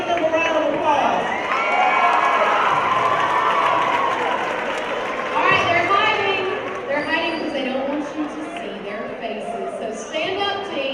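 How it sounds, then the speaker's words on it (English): A crowd at a school event for a state champion mock trial team breaks into sustained applause and cheers, a dense roar of clapping and shouting that continues under a speaker's voice. "Let's give them a round of applause."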